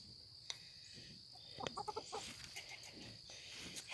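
Friendly backyard chickens cluck in a short cluster of soft, close calls, with a rooster among the flock and a faint steady hiss behind them; no one speaks.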